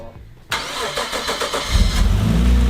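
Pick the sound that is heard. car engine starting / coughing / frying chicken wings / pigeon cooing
car engine starting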